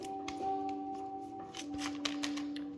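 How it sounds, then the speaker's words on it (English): Tarot cards shuffled by hand during a reading, giving a soft, steady riffle and flutter that runs through the whole stretch over a faint sustained background tone. "1 more shuffle"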